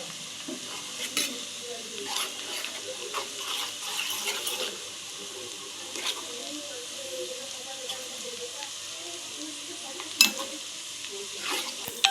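Homemade hair oil simmering in a pan, a continuous gentle sizzle and bubbling with scattered clinks and scraping of a utensil, close by with a couple of sharper knocks.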